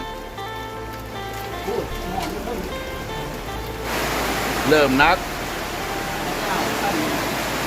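Heavy rain pours down steadily over a village as a dense, continuous wash that grows louder midway, while someone talks briefly over it.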